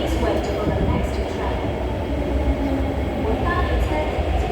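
A passenger train rumbles at Lok Ma Chau station, a loud, steady low roar of rail cars with faint higher squeals overhead and continuous background noise.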